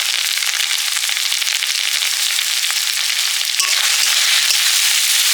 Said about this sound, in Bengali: তেল দিয়ে আদা রসুন ফেটে দিলাম পেঁয়াজ কুচি